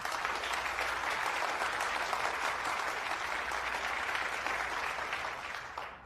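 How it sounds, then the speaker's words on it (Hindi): An audience in a debate competition claps loudly and continuously, a dense, sustained applause that begins to fade in the final second. "इनके लिए भी तालियां बजाइए।"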